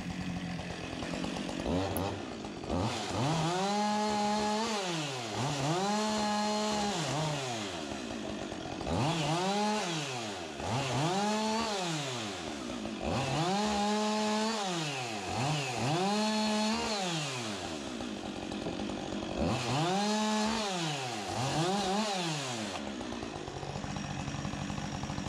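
Chainsaw sharpening the ends of wooden fence posts cut from a log, revving repeatedly in a steady rise-and-fall cycle, loud and close throughout with no talking.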